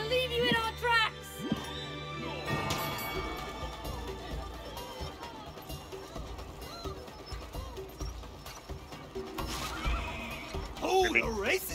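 Horses in the video game It Takes Two neigh and whinny loudly several times while hooves clip-clop in a galloping rhythm, layered over game music and effects with voices talking throughout.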